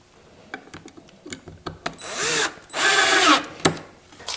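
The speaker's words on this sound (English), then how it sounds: "These hatch cleats are going to be held in place with pocket screws." A power drill drives pocket screws into wooden hatch cleats for a wooden inboard boat's engine cowling, two loud whirring bursts of about half a second, between sharp taps and clicks of handling wood and tools nearby.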